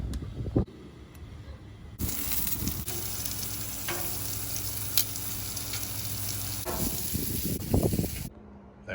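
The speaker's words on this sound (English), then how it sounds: "Cook the egg rolls." Pork egg rolls frying on a Blackstone griddle, a loud, steady close sizzle that starts abruptly, with occasional clicks and scrapes of handling near the end before cutting off.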